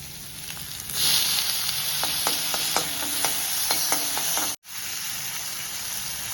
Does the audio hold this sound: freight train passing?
no